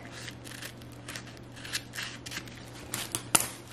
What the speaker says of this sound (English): So I have my scissors and I'm just going to cut